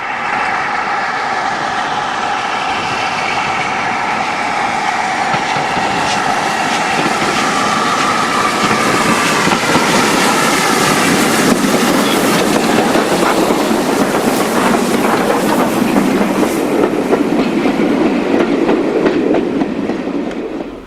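Stanier steam locomotive 45231 passing through Uskelf, a loud continuous rush of train noise with rhythmic clatter and rising hissing, close and sustained throughout.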